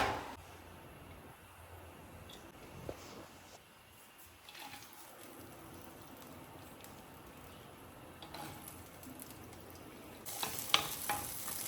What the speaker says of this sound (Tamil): இப்போ இதை வந்து ஒரு எண்ணெயில் கொஞ்சம் ஒரு வானலில் எண்ணெய் ஊற்றி வதக்கிக்கலாம்